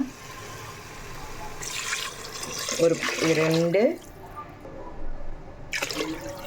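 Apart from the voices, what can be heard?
water poured into pot with rice for biryani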